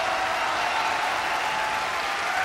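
A capacity audience at Avery Fisher Hall applauds after a concert, a sustained, dense wash of clapping that holds at an even, strong level throughout.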